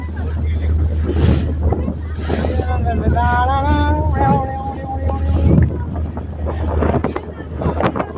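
Boat engine drone heading out to sea off Vizag, with wind buffeting the microphone and water rushing alongside, while people talk and someone sings over the steady motor.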